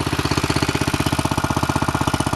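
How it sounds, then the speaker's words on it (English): Small go-kart engine idling after a cold start on a snowy day, a fast, even chugging pulse with a steady ticking rhythm close to the microphone, running alone without voices. "You can hear the valves clicking and ticking."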